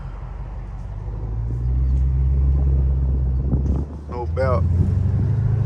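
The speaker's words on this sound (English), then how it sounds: "we got the car back crunk up" A Dodge Hellcat's engine idles with a deep, steady low rumble, building slightly louder partway through, with wind buffeting and a voice speaking briefly near the end.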